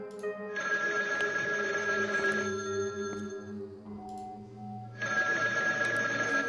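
A telephone rings in the Chinese horror puzzle game Paper Bride 5, its electronic bell in two long bursts separated by a quieter gap with faint tones, heard clearly and alone.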